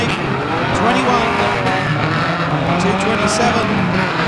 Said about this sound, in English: 227 is clobbered into the wall.